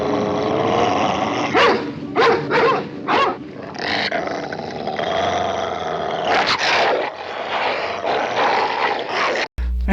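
Menacing dogs from the horror film Monster Dog snarl and bark, deep rolling growls broken by several sharp, loud barks in quick succession, close and aggressive.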